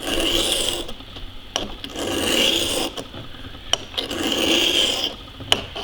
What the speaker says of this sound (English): Maybe putting a little bit too steep of an angle on it, but I'm not a very good sharpener.